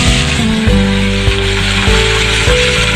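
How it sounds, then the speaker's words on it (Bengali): Pieces of rohu fish fry in hot oil in a pan, giving a loud, steady sizzle close up, broken by occasional scraping clicks as the pieces are turned. "এখন আমি এটাকে ভেজে নেব মাছটাকে আমি তেলে দিয়ে দিয়েছি।"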